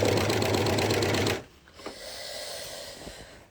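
A sewing machine runs steadily while stitching gathers on a dress, a loud continuous mechanical whir that stops abruptly after about a second and a half, leaving quiet room tone with a few faint handling taps.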